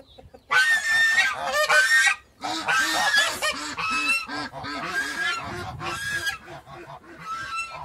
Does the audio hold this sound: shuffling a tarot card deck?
no